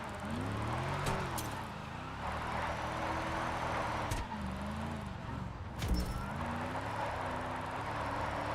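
Engine of a truck in GTA Online's Sumo Remix event revs up and down in wavering sweeps, with occasional sharp clunks and knocks over a constant road-noise bed.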